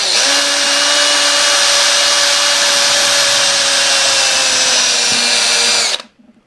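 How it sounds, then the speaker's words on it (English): A power drill running a 2mm bit through pilot holes in a sandwiched OO gauge model rose window, a loud close steady whine that holds for about six seconds before spinning down and stopping. "Right, now that it's all firmly sandwiched together, I can start drilling."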